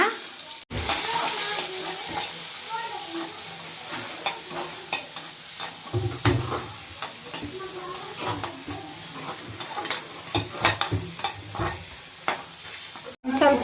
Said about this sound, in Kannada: ಇವಾಗ ಸ್ವೀಟ್ ಕಾರ್ನ್ ಬಿಡಿಸಿರೋದನ್ನು ಇದರಲ್ಲಿ ಫ್ರೈ ಮಾಡ್ಕೊಳ್ಳೋಣ